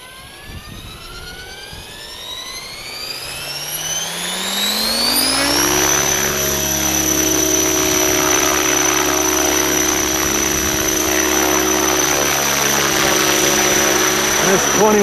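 A T-Rex 600 ESP 3G flybarless RC helicopter on a 12-cell (12S) battery spools up from a low whine to a loud, steady high-pitched rotor and motor drone. The pitch climbs over the first six seconds, then the drone holds level through the end.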